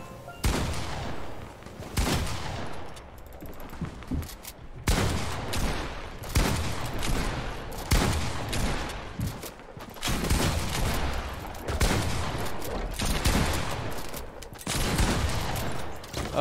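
Rapid bursts of gunfire in a Fortnite Battle Royale match, loud clustered volleys of shots repeating every couple of seconds with short gaps between them.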